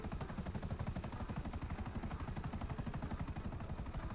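A helicopter's rotor chops in a steady, fast rhythm, loud and continuous across the whole stretch with no voices over it.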